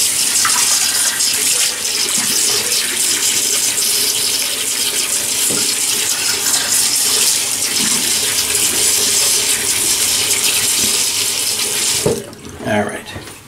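Tap water runs steadily into a sink for about twelve seconds, a loud continuous splashing rush as a man wets his face before shaving, then cuts off with a few drips and small splashes.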